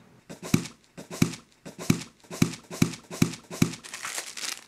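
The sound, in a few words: opening cylindrical packaging tube of a Creative Sound Blaster Free speaker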